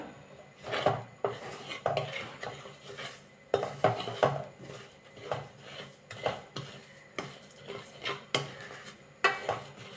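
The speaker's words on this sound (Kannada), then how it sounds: "ಇದೀಗ ಕಂದು ಬಣ್ಣ ಬರುವವರೆಗೂ ಕೂಡ ಈ ಸಕ್ಕರೆಯನ್ನು ನಾವು ಹುರ್ಕೋಬೇಕು" Half a cup of sugar roasting over a low flame in a pan, a utensil scraping and clinking against the metal in repeated strokes while it browns, with no talk.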